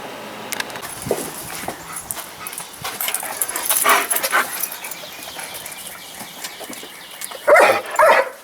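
Dogs moving about close by, with a few short barks and whimpers, jingling tags and scuffling.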